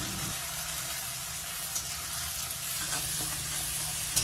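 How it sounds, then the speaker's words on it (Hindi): Chopped tomatoes stirred and fried in a pan give an unbroken, fairly quiet sizzle with a couple of light scrapes and no talking. "कटे हुए टमाटर को मिलाते हुए 1 मिनट भून लेंगे, टमाटर को हल्का सॉफ्ट हो जाने तक।"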